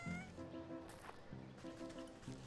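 A cat in the video game Wytchwood meows in a few drawn-out, rising calls, faint and close, with no talk over them.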